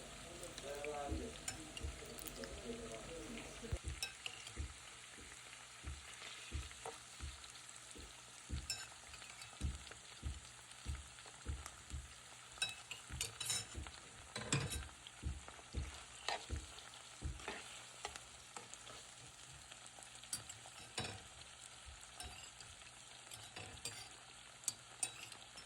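Onions and meat fry in a hot pan for a Thai-style meat dish, a steady close sizzle broken by repeated scraping and stirring knocks from a utensil, with a brief louder crackle early on.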